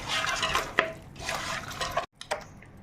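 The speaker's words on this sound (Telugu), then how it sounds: "ఉప్పు, కారాలు, మసాలాలు అంతా కలిసేలాగా ముక్కకు బాగా పట్టాలి, కలుపుకోవాలి బాగా." Chicken pieces are mixed with salt, chilli and masala for a dum biryani, giving intermittent wet, squelchy stirring bursts and faint clinks, close by and with no talking.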